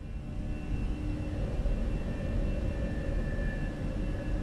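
Fenix A320 airliner engines spooling up during a go-around in a flight simulator, a steady broadband roar with a faint high whine, continuous and moderately loud with no talk.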